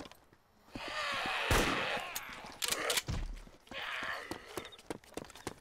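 Gunfire from a weapon in the DayZ survival game at Utes, several sharp shots spaced irregularly with impacts and movement between, set against game ambience, firing at a slowed rate.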